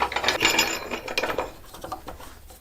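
A wing nut is spun onto a wood carver's screw, making a quick close burst of ratcheting metal clicks and scraping that fades over a couple of seconds.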